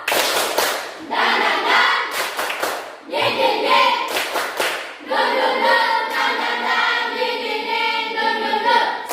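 A classroom of students performs a spirit clap (tepuk semangat), several quick bursts of group hand clapping with pauses between, mixed with voices chanting along.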